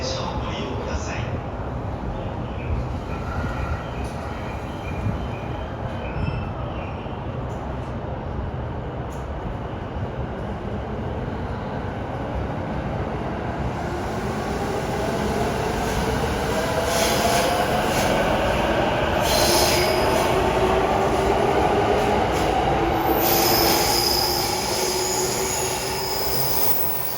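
JR commuter trains rolling in and out at Tokyo Station, a continuous rumbling roar with squealing wheels and metallic screech rising over time, heard from the platform amid station ambience and announcements.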